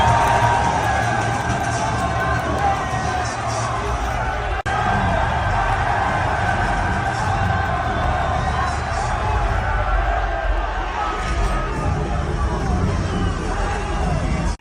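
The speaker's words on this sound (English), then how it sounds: "I mean, just listen to this crowd." A large crowd at a slap fighting event cheers and whoops continuously, a loud, dense wall of shouting and babble that holds steady throughout.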